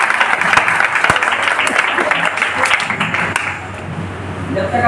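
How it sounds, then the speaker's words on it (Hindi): Seminar audience breaks into steady applause, dense close clapping from a crowd that continues for several seconds and tapers slightly near the end. "एक बार इन दोनों के लिए 2-4 ताली।"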